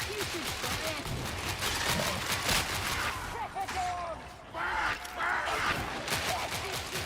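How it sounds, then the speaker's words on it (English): Rapid bursts of gunfire from a pistol in a shooter video game, with dense, repeated shots crackling almost continuously and loud in the foreground over game effects. "I wanted to shoot my pistol."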